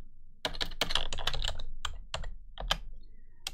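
Fingers type a command on a computer keyboard in a PowerShell session, a close burst of quick key clicks followed by a few separated presses and a final tap.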